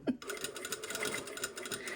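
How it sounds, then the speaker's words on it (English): A sewing machine stitching a lined vent in a garment, its needle running in a fast, steady mechanical whir with rapid ticking, close and moderately loud, just after a brief clunk at the start. "Sorry, that's my sewing machine talking to me."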